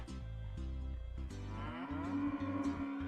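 Cattle mooing in the Purple Cloud video game, several drawn-out lowing calls in sequence, close and fairly loud over a steady game background with no talk.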